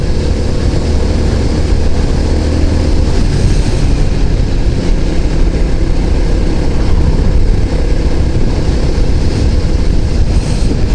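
A Honda moped rides toward a river, its engine and wind noise forming a loud, steady rumbling roar with no breaks.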